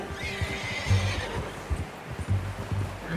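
Horse neighing in Red Dead Redemption 2, a clear whinny with snorts and clip-clopping hooves close by, loud and repeated over a rumbling outdoor backdrop.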